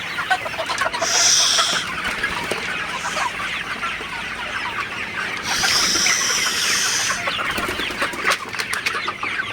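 Sonali super hybrid chickens at 56 days old cluck and call steadily in a poultry shed, a dense, continuous flock chorus with louder bursts of squawking rising above it twice.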